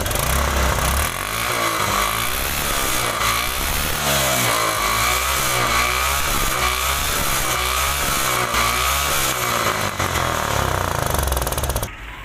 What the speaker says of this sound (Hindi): इसकी बाइक स्टार्ट करते हैं।